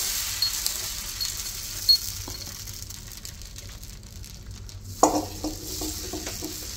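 Dosa batter is poured onto a hot pan and sizzles softly, a steady low hiss with a couple of brief clinks and scrapes of utensils against the pan.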